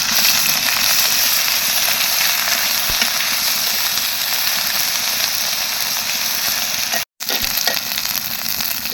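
Onion with garlic paste, ginger paste and garam masala paste frying in a pan, a steady loud sizzle running throughout with a brief cut near the end.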